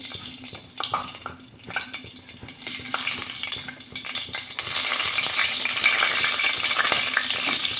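Cinnamon, cloves, cardamom and dried fenugreek leaves sizzle in hot ghee and oil for palak rice, a steady crackling fry that swells louder and denser partway through, with occasional scrapes and clinks of a utensil in the pan.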